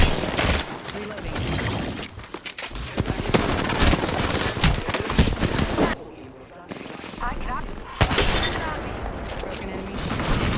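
Video-game gunfire in a battle-royale match: sustained rapid automatic bursts and loud impacts filling most of the stretch, with a brief lull around the middle and another sharp shot after, game voice lines mixed underneath.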